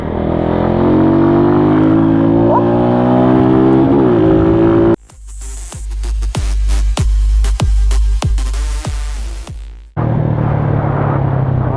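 A motorcycle engine at close range, a steady loud drone that cuts out abruptly, then a series of rapid rhythmic pulses as it revs through a downshift, before the steady drone returns.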